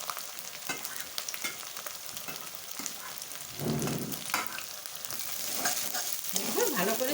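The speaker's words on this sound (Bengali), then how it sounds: "দেখুন ভালো করে মশলাটা কষিয়ে নিয়েছি, কাঁচা গন্ধটা চলে গেছে।" Spice masala with tomatoes sizzles and crackles in a hot pan for an egg and potato curry, with steady close frying, stirring scrapes and a louder hiss as more goes in.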